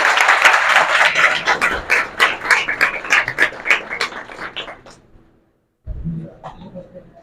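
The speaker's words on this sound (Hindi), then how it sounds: "जोरदार तालियां हमारे मनीष सर के लिए।" Clapping from a small audience at a welcome event, a run of brisk, fairly close hand claps that stops abruptly, then resumes briefly after a short silence.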